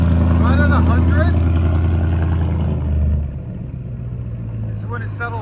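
Ford F-250 with a 6.8L V8 and Carven exhaust at cold-start idle, a deep steady rumble with someone talking over it; the idle drops to a lower, calmer tone partway through.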